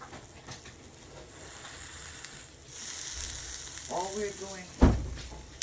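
Serrano and jalapeno chiles sizzle and crackle as they roast in a pan, with stirring scrapes and a sharp clatter near the end.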